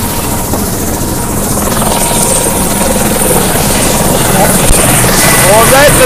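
A helicopter's rotor chops and drones loudly and continuously nearby, with a voice speaking faintly underneath.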